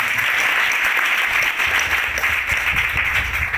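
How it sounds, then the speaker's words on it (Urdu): A church congregation breaks into loud, sustained applause, dense clapping continuing evenly throughout with no pause and no talk over it. "زوردار تالیاں بجائیں گے۔"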